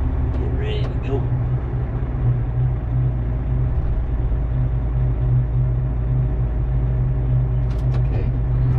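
A 105,000 lb haul truck's engine runs loud and steady at full throttle as it pulls away, a continuous deep rumble with a person talking over it.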